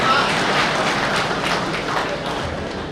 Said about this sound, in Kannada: ಸ್ವಲ್ಪ ಚಪ್ಪಾಳೆ ಹೊಡಿರಿ.